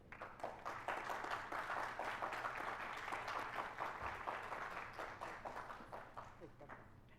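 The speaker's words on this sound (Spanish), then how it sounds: "les damos un fraternal aplauso" Audience applause at a university teaching symposium in Mexico, greeting two speakers as they come onto the stage: steady dense clapping throughout, with a low hum underneath, fading slightly toward the end.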